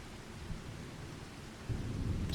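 Rain and rolling thunder in Farming Simulator 25 on a Wampsville, NY farm map, a steady low rumble of a storm with broadband rain hiss, swelling louder near the end.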